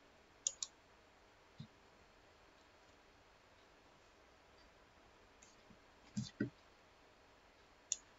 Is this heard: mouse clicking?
yes